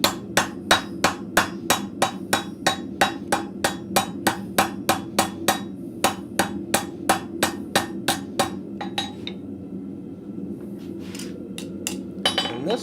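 A blacksmith hammers an arrowhead socket on the horn of an anvil with light, steady blows, a long rhythmic run of bright ringing strikes that pauses briefly before a few more resume near the end.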